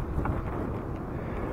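Steady wind buffeting a microphone on a bike ride, a continuous low rumbling roar with no pauses, fairly loud and close throughout.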